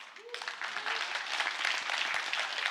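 An audience at a talk event by former footballer Lee Dong-gook applauds, a soft start swelling into sustained, even clapping that stays moderately loud to the end.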